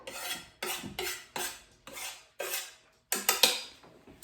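Knife chopping about half a cup of toasted pecans on a board, a run of quick, crisp scraping cuts in even rhythm, close and fairly quiet, with no talk.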